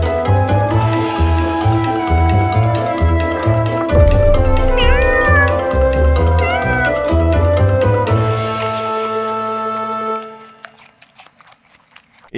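Pet cats meow several times, short rising and falling mews heard close over a loud, rhythmic music backing that cuts out near the end.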